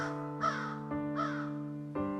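A crow caws twice in a children's story about a thirsty crow, each harsh call rising over steady sustained musical tones that run throughout.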